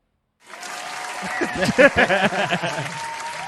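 A small studio crowd breaks into applause after a moment of silence, clapping swelling quickly to a lively, close burst and holding steady to the end.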